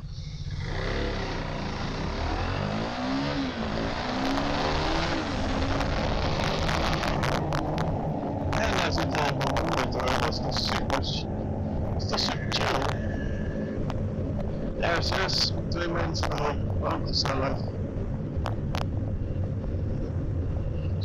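A motorcycle pulls away and accelerates on the road, its engine note rising in a continuous close roar under heavy wind rush, with a series of brief clicks and knocks partway through.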